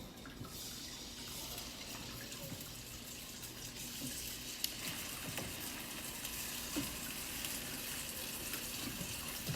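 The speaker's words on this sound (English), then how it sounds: "You can hear that little sizzle." Steady sizzling hiss of chicken frying skin side down in a pan, continuous and fairly quiet with occasional faint pops.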